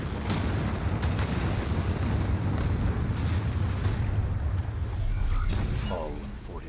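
Nuclear missile launch explosion in the video game Anno 2205, a loud sustained roaring blast with rumbling booms that fills several seconds before easing off, with game sound effects underneath.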